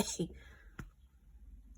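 A single short, harsh cough close by, followed by a faint click and near silence.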